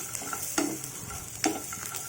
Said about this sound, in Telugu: పచ్చిమిరకాయలు వేయించుకొని పల్లీలు కూడా వేయించుకోవచ్చు